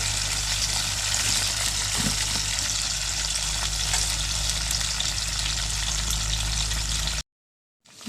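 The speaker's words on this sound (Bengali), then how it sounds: "মাংসগুলো ভাজতে থাকবে।" Meat sizzles steadily in a pot over a clay stove, a continuous dense frying hiss with a low fire rumble beneath, holding even for several seconds before cutting to silence.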